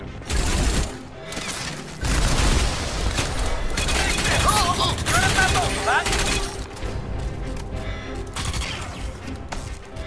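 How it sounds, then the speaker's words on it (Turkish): An electric gun fires in Crysis 2, loud bursts of crackling, buzzing discharge with short gaps between them, mixed with game effects and brief talk. "Ne oğlum elektrikli silahmış lan. Elektrikli adam vuruyormuş."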